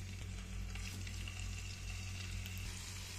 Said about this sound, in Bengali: এখন মাছগুলো ডিপ ফ্রাই করে নিব।